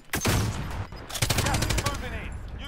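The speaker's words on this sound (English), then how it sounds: "There's another guy shooting from down there." Rapid bursts of gunfire from an enemy in a first-person shooter video game, loud sharp cracks repeating through most of the stretch with a brief lull, some voice chatter faintly underneath.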